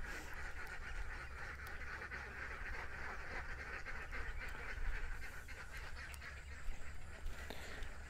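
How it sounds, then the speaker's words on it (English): A flock of ducks feeds in a frenzy, with a continuous faint chorus of quacking and gabbling heard from a distance. "The thing with ducks is when they feed, it's almost a frenzy."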